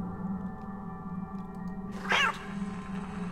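A cat in the video game Ghost Thief: Deadly Shadows gives one short, sharp meow over a steady low game hum and drone, fairly close and brief, with no voices.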